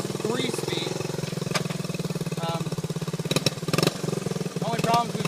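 A 1977 Honda CT90 three-speed vintage trail motorcycle engine runs steadily close by, a continuous low putter with a few louder bursts, while a person talks over it.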